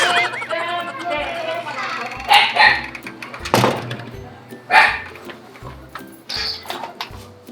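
A dog barks late at night around 11:30 at home, giving several sharp, close barks spread through the stretch while people talk nearby.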